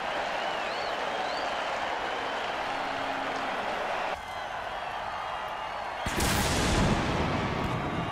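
A stadium crowd in a football video game roaring after a hard hit, a broad steady cheer with commentary over it that swells louder near the end.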